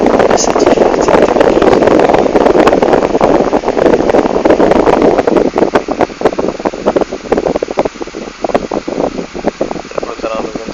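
A homemade air-conditioning setup with an electric fan blows air steadily and loudly at close range, a continuous broadband rush with no talk over it.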